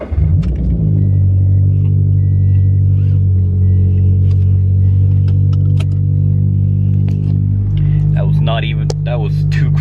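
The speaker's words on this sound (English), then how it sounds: "the thing I'm gonna do first right now actually is go start my car and take a drive" A car engine turns over briefly, catches almost at once, then settles into a steady, close, low droning idle that runs to the end.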